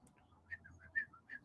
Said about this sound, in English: Hear that bird? What kind of bird is that?